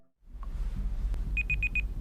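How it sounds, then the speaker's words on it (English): Four quick, evenly spaced high electronic beeps from a tracking device triggered by a smartphone app ring out over a low rumbling background, preceded by a single faint blip. "The girl pulls out the tracking device, which emits a tiny beep when she taps the button on the app."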